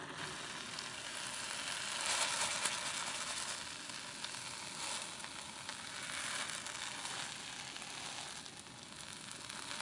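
Kabocha squash simmers in a sweet syrup reduced until nearly dry, giving a steady, even sizzling bubble close by that holds for the whole stretch with no voices.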